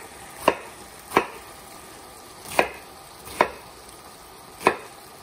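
A knife cuts through cabbage for a one-pot cabbage casserole, giving five sharp, close chops at uneven intervals with quiet pauses between them and no talking.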